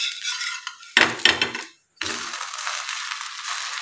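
A rava pizza is flipped in a pan on a medium gas flame, giving metallic scrapes and clatters of a utensil against the pan, a brief pause, then a steady close sizzle.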